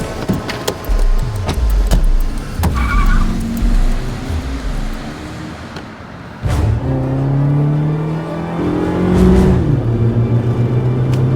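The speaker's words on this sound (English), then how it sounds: "We're in pursuit of a Dodge Neon silver license plate number 37." A silver Dodge Neon drives hard in a pursuit, its engine loud and close with rising and falling revs and a whirring pass partway through.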